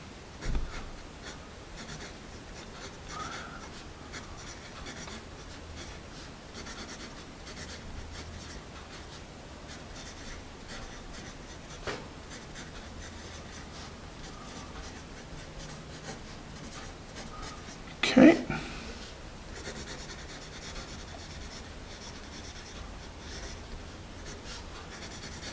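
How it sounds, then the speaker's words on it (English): A sharpened Nataraj Marble HB graphite pencil writes steadily on paper, giving a soft, continuous scratchy rub that runs for the whole stretch, with a few brief louder taps and knocks along the way and no talking. "So we're going to sharpen this up and do some writing with it."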